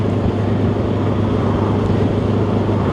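A Benelli TRK 702 motorcycle cruises at about 30 in fourth gear, a loud, steady engine drone mixed with road and wind rush, unchanging over the few seconds and without speech.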